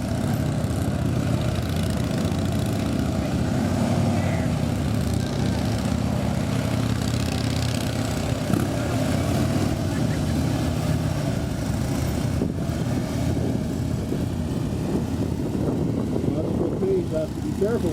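Steady rumble of motorcycle engines riding at low speed, a continuous droning hum that holds even throughout with no clear pauses.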